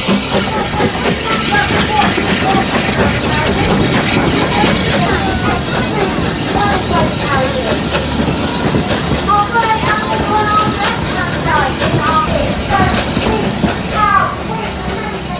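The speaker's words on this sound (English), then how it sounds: "Steam trains." A steam train on a zoo railway rolls along the rails with a steady rumble and a rhythmic clatter of wheels over track joints, plus a light hiss, heard up close and continuous throughout.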